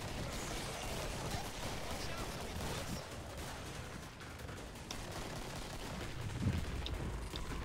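Gunfire in the video game Killing Floor, during the Santa's Lair map, comes as faint, distant shots scattered through a low, steady wash of game noise, with talk underneath.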